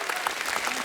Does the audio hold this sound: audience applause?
yes